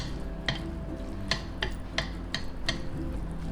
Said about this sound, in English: Now let's mix this all together